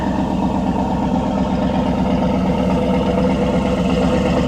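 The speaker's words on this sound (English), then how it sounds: "Listen to that exhaust." A Cadillac Escalade SUV engine idles with a deep, steady exhaust rumble, constant and loud throughout with no voices.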